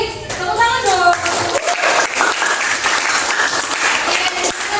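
A voice speaks briefly, then a classroom group bursts into sustained applause, many hands clapping steadily for several seconds.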